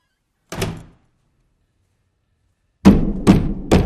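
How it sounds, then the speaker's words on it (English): Knocking on a door in the horror film The Babadook: a single faint rap, a long silence, then three loud, heavy knocks in quick succession, close and resonant, with no voices. "We hear a second knock, louder."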